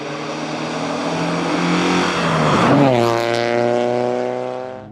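Alfa Romeo 33 1.7 Green Cloverleaf hatchback engine droning loudly and steadily while cornering and drifting sideways, pitch sliding down mid-clip as revs drop, then holding a lower hum before fading out.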